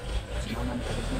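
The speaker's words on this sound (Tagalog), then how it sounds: "Yung ingay ng sasakyan ba." Passing road traffic makes a steady, fairly loud broadband roar that fills the whole moment, with a voice faintly present underneath.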